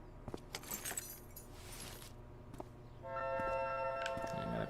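Keys jangle as they are picked up in the video game Life is Strange, a few quick metallic clinks against a quiet room ambience, followed by a soft ringing game tone.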